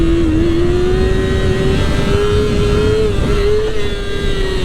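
Yamaha R6 5EB sport motorcycle accelerating for a wheelie, a loud sustained engine drone holding a steady pitch that rises slightly, heard close throughout with no talk.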